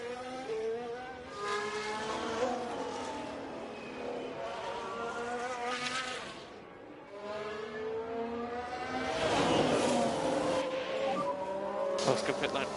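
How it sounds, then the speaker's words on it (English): F1 car pulling out of the garage in F1 Manager 23 at Baku, a steady high engine whine with rising pitch sweeps that swells louder near the end, no talk in the clip. "As Max is leaving the garage"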